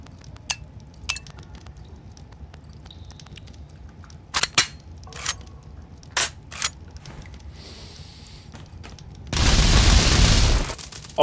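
Wand gunfire in the pixel simulation game Untitled Pixel Simulator: sharp, sparse pops and cracks at irregular intervals, then a loud, sustained burst of noisy blasting near the end.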